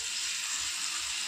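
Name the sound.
chicken hara kababs sizzling in buttered pan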